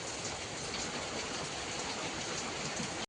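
Rain pours on a rainy afternoon as a dense, even hiss of falling water that holds steady throughout and then cuts off abruptly.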